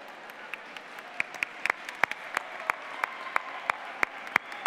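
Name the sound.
audience applauding first robotics competitor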